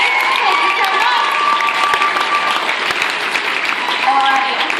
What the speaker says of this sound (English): Give them a large round of applause as they leave the stage